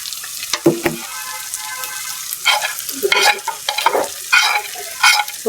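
Spices stirred and frying in hot oil for a duck curry, with a steady sizzle and several louder scraping stir strokes at irregular intervals, close up, no talk.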